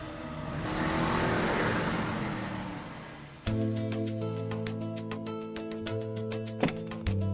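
A car drives along with a steady engine hum, then rolls to a stop; afterwards a cabin-like drone and music-like tonal tones continue, with a couple of sharp thumps near the end.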